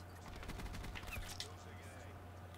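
Rapid pistol fire from the Kap 45 with Rapid Fire in Black Ops 4, a quick burst of sharp shots over steady game background noise, with speech alongside.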